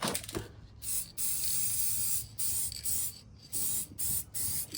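An aerosol spray can puts a final coat of rust paint on a Ford Ranger in several close, loud hissing bursts, each lasting about a second, separated by short gaps.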